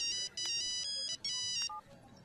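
A phone ringtone plays in short bright electronic bursts broken by brief gaps, fairly close over a low room background.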